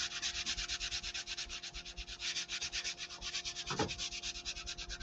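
A cloth rubs surface wax onto a painted wooden kitchen sign, making a soft, steady swishing in fast even strokes. A single dull knock comes partway through, and no one speaks.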